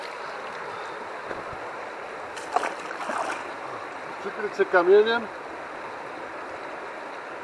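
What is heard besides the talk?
mountain stream flowing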